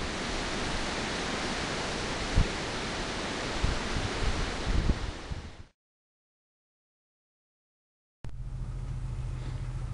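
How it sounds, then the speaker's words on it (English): Wind rushes through trees on open land in Oklahoma as a loud, broad, steady roar with a few gusty swells, cutting out abruptly into silence before returning more softly. "Hear the wind in the trees."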